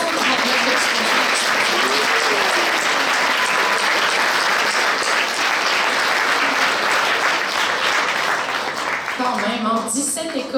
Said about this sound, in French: une bonne main d'applaudissements pour nos 139 exposants